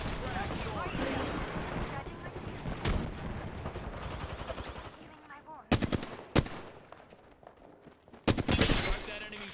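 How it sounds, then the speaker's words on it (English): Rapid automatic gunfire from the Apex Legends video game, dense bursts over busy combat noise, then three loud sharp volleys near the end, with a voice talking over the early part. "Being shot at!"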